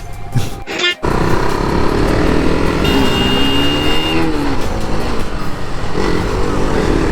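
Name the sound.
Kawasaki H2 motorcycle engine started and running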